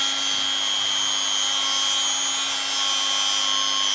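A rotary tool sanding a surface with a high, steady whine and a faint scratchy friction sound, loud and close, running continuously without speech.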